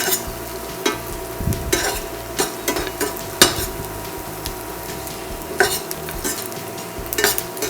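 Dal tadka tempering sizzles steadily in a pan as the lightly browned ingredients are stirred, with repeated scraping strokes of a spoon against the pan over the constant frying hiss.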